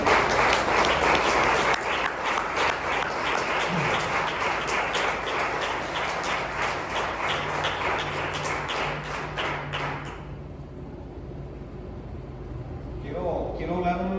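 A church congregation applauds, with rhythmic, fairly even clapping lasting about ten seconds under some background voices, then stopping abruptly and leaving a quieter room with a voice and other sounds.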